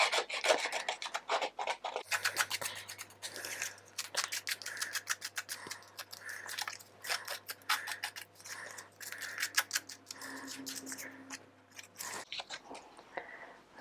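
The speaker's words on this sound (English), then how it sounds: "I'm going to rough the edges up a little bit with a pair of scissors" Scissors roughing up the edges of a photo: a quick series of dry snips and rasping scrapes in irregular bursts, close and fairly quiet.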